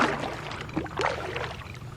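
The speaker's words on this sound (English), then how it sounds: "It's a little hard paddling in this configuration." Canoe paddling on the Ochlocknee River, with soft, close paddle splashes and water swishes recurring over a steady low rush of moving water.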